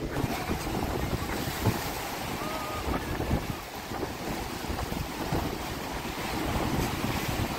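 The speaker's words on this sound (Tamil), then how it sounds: "இப்போ இப்படி அலை வந்து கொஞ்சம் கூட மாதிரி அடிக்குது" Waves crash on the sea coast, stronger than usual, as a loud continuous wash of surf mixed with gusting wind buffeting the microphone.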